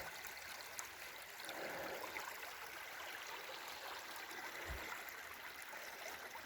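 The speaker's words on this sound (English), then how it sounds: "running of water" A stream in Macon County, Tennessee, runs with a soft, steady trickle and babble of water, faint and continuous, with a brief low thump partway through.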